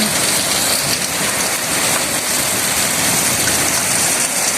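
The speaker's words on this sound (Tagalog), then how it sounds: "It's a terrible rain." Heavy rain pouring steadily, a loud dense hiss that fills the whole clip without pause, close and continuous with no voices.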